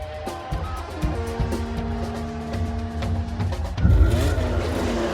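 Formula 1 race cars roar at a race start with Ayrton Senna on pole, several engines revving and climbing in pitch together before a heavier surge of accelerating cars, loud and continuous with commentary faintly beneath.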